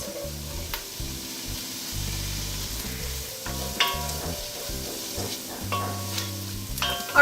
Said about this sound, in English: these have been sauteing for about 3 minutes.